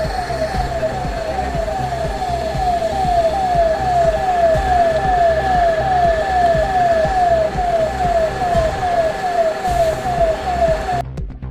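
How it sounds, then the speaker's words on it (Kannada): A fire engine siren wails steadily and loudly throughout as the fire brigade arrives at a lightning-struck coconut tree fire in Yadgir district during a rainstorm, its rapid rising-falling cycle repeating over traffic and engine rumble, with no talk. "ದೌಡಾಯಿಸಿ ಬಂದ ಅಗ್ನಿಶಾಮಕ ದಳ."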